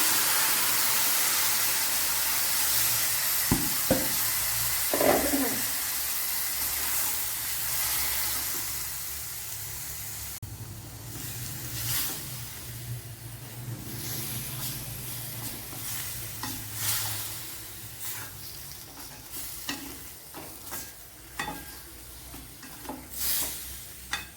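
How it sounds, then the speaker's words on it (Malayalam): Pumpkin for a Thrissur-style dish cooks in a pan: a loud, hissing sizzle at first, then softer bubbling with repeated close scraping and stirring sounds, and no speech. "ഇതിലേക്ക് ഇനി മത്തങ്ങ ഒഴിച്ചു കൊടുക്കാം."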